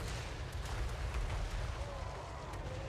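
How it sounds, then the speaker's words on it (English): Artillery explosions in Total War Warhammer 3 merge into a dense, continuous battlefield rumble of booms and blasts, loud and steady for the whole stretch with no clear gaps. "Let's give them a proper sea of explosions to deal with."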